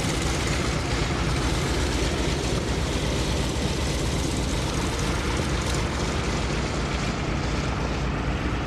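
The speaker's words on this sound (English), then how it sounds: "Mark Murphy at the controls today of the Corsair." A Vought F4U Corsair warbird, marked with John Glenn's name, flies past at the 2017 Rhode Island ANG Open House airshow. Its propeller engine roars loud and steady throughout with a broad, continuous drone.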